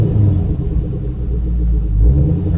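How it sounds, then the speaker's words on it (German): A parked car's engine revs as the gas is pressed lightly, giving a close, heavy low rumble that swells slightly near the end. "wenn ich ein bisschen aufs Gas, dann wackelt das Auto"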